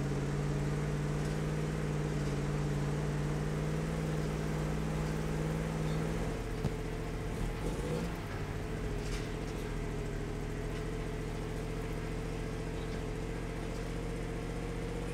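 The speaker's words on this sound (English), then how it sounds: "The engine on this truck sounds like a lawnmower." A heavy off-road truck engine in the Spintires: Mudrunner game drones steadily at a low, buzzing, lawnmower-like pitch, with a brief shift in tone midway as it works over logs on a muddy road.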